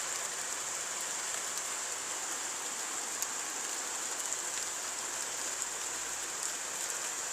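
Rain from a violent summer thunderstorm in Carpentras falls as a steady, dense hiss of drops on surfaces, with faint clicks scattered through it and no voices.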